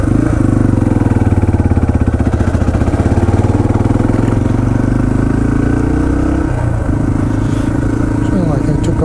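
Yamaha TT-R230 dirt bike ridden at Windrock Park, its engine droning loud and close throughout, with a brief dip and shift in pitch partway through before settling back to a steady run.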